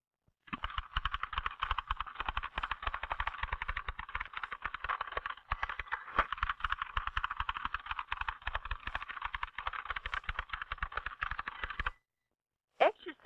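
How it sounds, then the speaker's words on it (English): An old mechanical typewriter is worked as fast as possible: a dense, unbroken rattle of rapid keystrokes runs steadily for about eleven seconds, then stops, followed by a couple of isolated clacks. "the person is typing as fast as he or she can"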